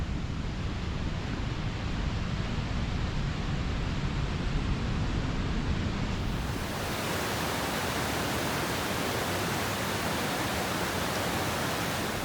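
Van Trump Creek on Mount Rainier rushes over rocks in a steady, loud broadband roar, growing brighter and fuller partway through as the creek draws nearer, with no voices.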